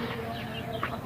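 Hungry backyard chickens of the Rhode Island Red and native breeds cluck in a short, close burst of low bird calls while they wait to be fed.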